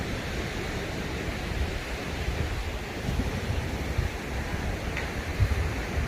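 Ocean waves at Pantai Cinta beach on Simeulue, a soft continuous surf wash heard from a distance, steady and low with faint wind, no talking.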